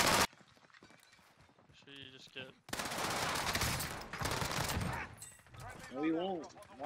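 Gunfire from a Cooper Carbine in Call of Duty Warzone crackles in dense bursts, with near and far shots mixed with footsteps and in-game sounds while a player talks over parts.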